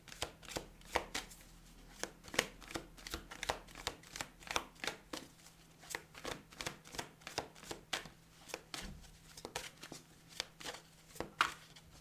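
Tarot cards shuffled by hand during a weekly reading, giving a steady run of quick papery riffles and soft slaps that keep repeating close up, with no talk.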